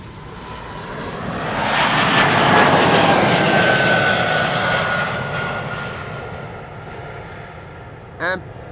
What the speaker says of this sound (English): Right now we have a triplet of narrow bodies that is taking off from Polderbaan.